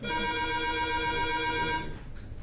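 A mobile phone ringtone rings during a meeting: a steady electronic tone that is clear and moderately loud for nearly two seconds, then cuts off, leaving room noise.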